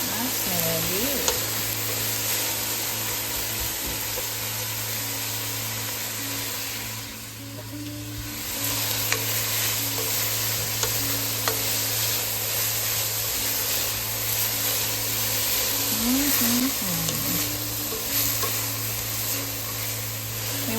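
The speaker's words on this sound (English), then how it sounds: "We want the vegetables soft but not brown, about 10 minutes probably" Diced celery and other vegetables with a bay leaf and a little salt cook gently in a pot, a soft continuous sizzle with occasional stirring scrapes and a steady background hum throughout.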